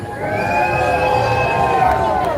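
Street-show crowd in Las Vegas on St. Patrick's Day cheering and yelling together, a loud sustained roar of many voices close by with shouted whoops rising over it.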